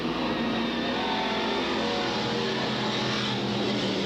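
Street stock cars at Freedom in 1993, roaring in a continuous blended drone as they race side by side, engines droning from a distance with no break in the noise.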